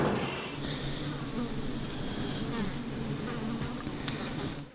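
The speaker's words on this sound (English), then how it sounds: "He's got bees in every bloody corner of the paddock." Dense, continuous buzzing of a bee swarm in a shed, steady and close, with a high sustained drone running through.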